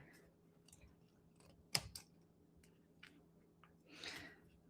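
Scissors trim fabric for a homemade rag bag, quiet scattered snips and clicks with one sharper close snap and a soft rustle near the end, no talk over them.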